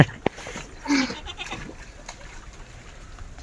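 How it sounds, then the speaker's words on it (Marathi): Goats bleat a few times at close range on a farm during the Bail Pola festival, short nasal cries over light background noise and brief voices. "ते शेळ्या घाबरतात"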